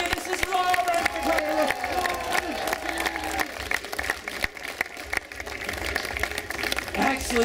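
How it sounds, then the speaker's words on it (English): An outdoor crowd at the Champlain Valley Fair show claps and cheers for a performer named Lauren, sustained scattered applause with whoops, while a host talks over it. "face your audience because they're clapping for you"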